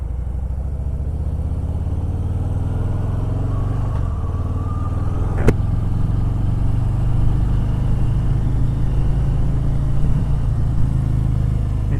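A 2018 Harley-Davidson Breakout 114 motorcycle rumbles loudly and steadily up close, its deep V-twin engine note climbing gradually as it pulls and accelerates.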